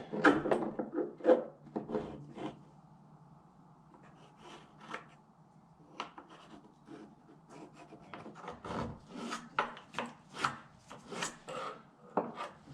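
Scribing a line on wood by hand, quiet scratchy strokes and light taps coming in irregular bursts with short pauses, faint and close.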